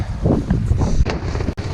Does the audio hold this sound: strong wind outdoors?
yes